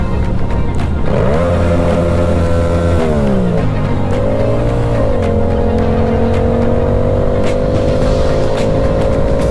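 A motorcycle engine revs up, its pitch rising and falling before holding a steady, loud drone close by, with no talking.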